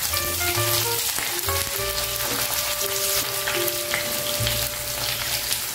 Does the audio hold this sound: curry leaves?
yes